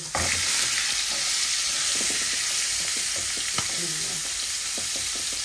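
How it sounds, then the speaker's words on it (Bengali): Fish seasoned with turmeric and salt fries in a pan with a steady close sizzle and occasional soft stirring clinks, alone without talk. "এই আমি মাছগুলা ভাজার জন্য হলুদ লবণ দিয়ে পানটা বসিয়ে দিয়েছি"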